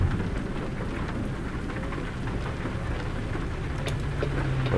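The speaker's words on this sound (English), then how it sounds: "Let's get off this dirt road before the rain soaks into it and makes it really muddy." Steady rain falls continuously in American Truck Simulator, a dense hiss of drops with a faint low rumble underneath and no voices.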